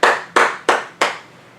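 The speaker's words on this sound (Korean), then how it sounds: "우리 하나님께 감사와 영광의 박수를 돌리겠습니다." Church congregation clapping in unison: four sharp, evenly spaced loud claps close by, each quickly decaying, with no voices.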